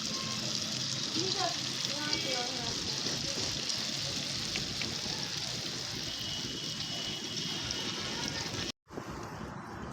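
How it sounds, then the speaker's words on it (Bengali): Pumpkin fritters of sweet pumpkin batter drop into hot oil and bubble, a dense steady hiss close to the pan that cuts out briefly near the end before resuming. "তেল গরম হয়ে গেছে, এবার তেলে বড়াটা ছাড়ছি।"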